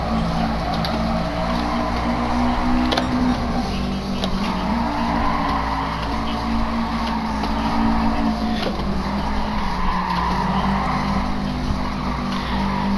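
Racing game engines of a Toyota 86 and a Subaru lapping a track, a steady loud engine drone with tire skids and squeals throughout, no talking.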